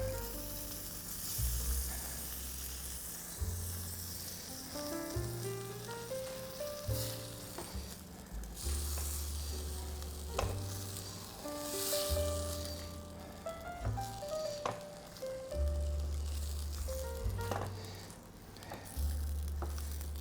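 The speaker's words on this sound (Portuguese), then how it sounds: "já vamos colocar o penne, que já foi cozido, na medida" Cooked penne sizzles as it goes into a pan of lemon sauce made with lemon zest and juice, a steady close frying hiss with soft stirring and scraping, and no voices.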